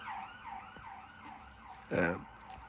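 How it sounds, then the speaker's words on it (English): A siren wails in rising and falling sweeps, moderately distant, with a brief louder rumble of passing noise partway through. "just as the siren goes off"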